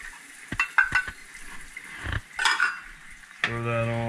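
A metal lid goes onto a rice pot holding water on the stove. Sharp clanks and scrapes of metal against metal come close and fairly loud, followed by a steady ringing hum.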